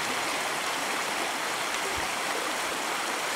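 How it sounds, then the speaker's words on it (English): Small waterfall spilling into a cold woodland stream on rural land, a steady, close, full-band rush of falling and flowing water that holds even throughout with no voices. "cleaned up the waterfall."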